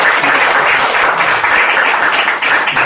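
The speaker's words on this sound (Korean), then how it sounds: "박수 한번 해주시기" A church congregation applauds during a Sunday service appointment ceremony, a dense, steady wash of many hands clapping at close range that holds loud and even for about three seconds.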